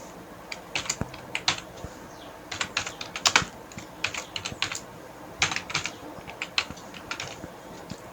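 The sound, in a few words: typing on a computer keyboard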